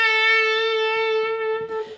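A single sustained electric guitar note with vibrato that settles back to its starting pitch, clear, close and alone.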